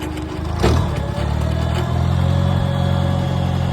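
An International Harvester Farmall 140 tractor engine runs steadily close by while pulling a 5 ft brush hog, a low, even rumble with one brief surge near the start.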